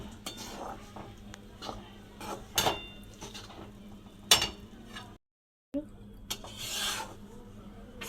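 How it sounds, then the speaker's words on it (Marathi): Gram flour (besan) roasting in a pan over low gas for laddoos, with a spatula scraping and rasping against the metal in irregular strokes, close and fairly quiet, with a brief silent gap. "हे बेसन असं कमी गॅसवर चांगलं भाजायचं लाल होईपर्यंत"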